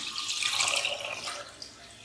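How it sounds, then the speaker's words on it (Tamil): Water is poured into a pressure cooker holding washed rice and split moong dal, about five cups, making a steady splashing pour that fades out toward the end. "கூடவே 5 கப் தண்ணியும் சேர்த்துடலாம்."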